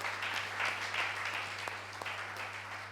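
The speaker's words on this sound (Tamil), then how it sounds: "கைத்தட்ட மாட்டீங்க." A church congregation gives a fairly faint round of applause: many hands clap in a dense patter for about three seconds, over a low electrical hum.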